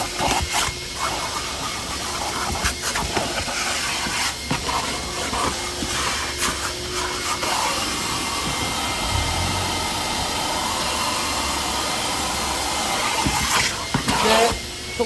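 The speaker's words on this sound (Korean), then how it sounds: "그거를 진공 청소기로 빨아들이면서 이물질을 제거해주는 그런 과정이 되겠습니다" A vacuum cleaner sucks dust and debris from a car's floor after the mats are lifted out at a hand car wash in Bucheon. Its close, steady roar runs unbroken from start to finish.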